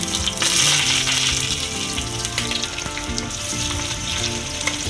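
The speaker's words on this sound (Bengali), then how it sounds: "নাড়াচাড়া করছি যতক্ষণ না পেঁয়াজটা একটু ভাজা ভাজা হয়" Small chopped onions fry in hot oil with bay leaf and radhuni seeds, making a loud, continuous sizzle close up, with scraping and stirring in the pan and no talking.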